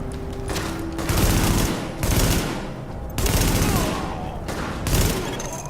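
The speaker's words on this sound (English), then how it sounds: "The escort party's taking heavy fire from the roof." Heavy automatic gunfire in The Division video game, with dense rattling bursts in several loud volleys separated by short gaps, close and dominant, and game dialogue briefly under the shooting.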